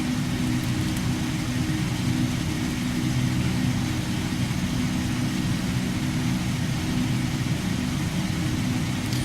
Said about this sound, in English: the engines on this thing is crazy powerful